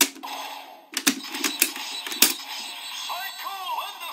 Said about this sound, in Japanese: だんだんとこう効果音が大きくなってますね